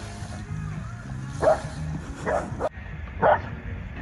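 A dog barks in short bursts during DIY tree removal outdoors, three or so yips spaced apart over a rumbling background of engine and movement noise.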